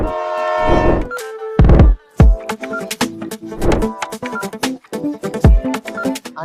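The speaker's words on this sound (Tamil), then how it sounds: "நிஜமாவே ஒரு ட்ரெயின் வெயிட் பண்ணுது." A loud, blaring train horn sounds in several long blasts from a waiting train, mixed with clanking and rumbling from the nearby train.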